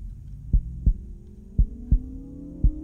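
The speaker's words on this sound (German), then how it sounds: "Was ist das für ein Herzschlag?" Heartbeat sound effect in Minecraft during a Halloween horror map: five deep, thudding beats at an uneven pace over a steady low hum, fairly close and with no one talking.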